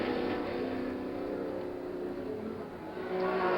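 Can-Am race cars at Mid-Ohio, a 5-litre Porsche and 8-litre McLarens, roar past as a dense, continuous engine drone with steady revving. It stays loud and unbroken throughout, with no talk over it.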